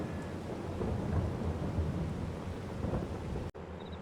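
Steady heavy rain with a low rumble of thunder underneath in the farming game Farming Simulator 22, constant throughout before cutting off abruptly near the end.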